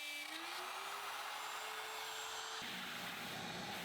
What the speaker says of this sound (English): cutting relief grooves using a 1/4 inch straight bit in your router to remove most of the material.